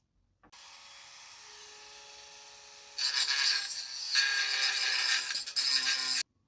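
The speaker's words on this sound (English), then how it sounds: "I need to grind that wee bit there away" A small bit of metal being ground away with a power grinder: a steady rasping whine starts alone, then turns into a louder, harsher grind that holds for about three seconds before cutting off.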